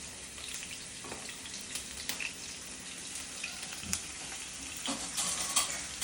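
Onions frying in white oil while being stirred for a Bengali dish with prawns, a soft, steady crackling sizzle with occasional faint utensil scrapes and no talking.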